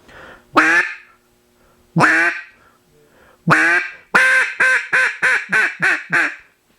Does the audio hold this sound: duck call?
yes